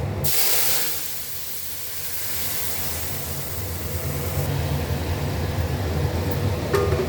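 Dal poured into hot mustard oil tempered with dried red chillies and mustard seeds, giving a loud, steady sizzle and steamy hiss that starts with a burst and continues without letup.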